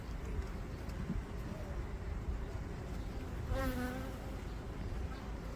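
Dense, steady buzzing of many honey bees around a hive fills the air close by, with a brief higher whine passing through midway.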